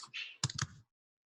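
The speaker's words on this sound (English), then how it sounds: "I'm going to delete that and I'm going to just type in" A short burst of computer keyboard typing, a few quick close clicks of the keys that stop abruptly into silence.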